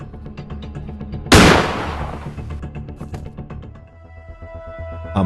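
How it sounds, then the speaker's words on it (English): A shotgun in the horror video game Granny fires a single loud, booming blast that decays slowly under a tense, steady musical score. "You can assemble the shotgun and shoot her."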